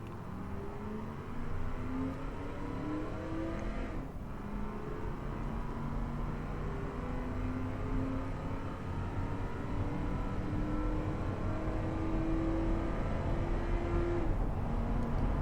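Engine of an Athena SXL3 luxury car in the racing game Automation pulls hard through second gear toward high speed, a steady loud drone with rising engine pitch sweeping upward again and again, alone with no talk.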